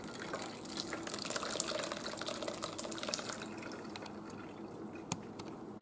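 Whey trickles and splashes steadily as it drains out of freshly made cheese through a strainer, close and fairly soft, thinning toward the end with a few drips.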